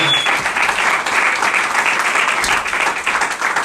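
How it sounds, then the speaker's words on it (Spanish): A church congregation gives loud, sustained applause, a thick wash of clapping with no pause and no talk over it. "Denle un fuerte aplauso al Rey en esta hora"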